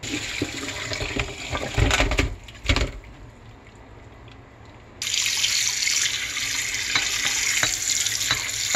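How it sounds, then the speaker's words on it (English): Cold water runs steadily from a tap, with a few splashy bursts early on, then the stream grows louder and hissier for the rest. "we're going to clean it under some cold running water"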